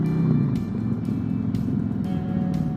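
Harley-Davidson Road Glide with a 114 engine idling or running nearby, a steady low rumble throughout with a few faint ticks.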